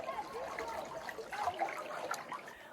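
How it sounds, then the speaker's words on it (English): Water in a creek at Manning Gorge on the Gibb River Road runs in a steady, close trickle and gurgle, with faint voices barely present underneath. "We've come to the creek at Manning Gorge"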